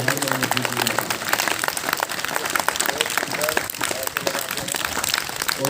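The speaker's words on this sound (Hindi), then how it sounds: "ये तालियां बजाते हैं जो अपने डाइजेशन को ठीक करेंगे" A group of yoga students clap their hands together as a digestion exercise, a dense, continuous patter of many palms filling the room at moderate loudness, with voices mixed in underneath.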